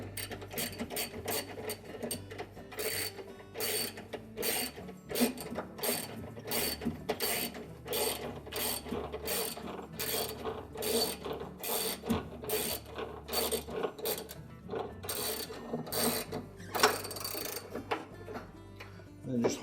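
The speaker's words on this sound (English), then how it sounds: "And just hold that pulley as you tighten that nut." Ratchet wrench tightening a new nut onto the transmission shaft while fitting a replacement clutch assembly on a Whirlpool washer, a long run of fast, steady metallic clicks close to the mic with brief pauses between strokes.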